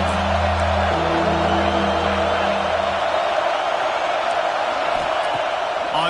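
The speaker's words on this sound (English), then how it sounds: "how nice is it to have the home crowd going absolutely bananas?" Home crowd in the College Football 26 video game, a dense, loud, continuous roar of cheering fans with low droning tones under it early on, steady from start to finish.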